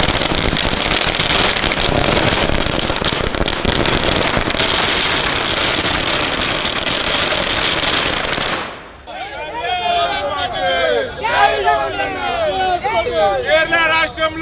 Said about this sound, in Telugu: గాంధీ భవన్ లో టపాసులు పేల్చి సంబరాలు జరుపుకుంటున్నారు పార్టీ నేతలు.